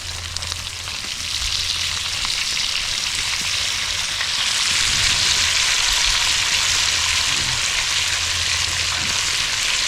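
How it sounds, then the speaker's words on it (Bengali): Crab frying in hot oil: a steady, loud sizzle crackles all the way through and gets denser partway in, with no voices over it. "তেল গরম হয়ে গেছিলো, যার কারণে প্রকাশে তাড়াতাড়ি কাঁকড়াটা দিয়ে দিয়েছে"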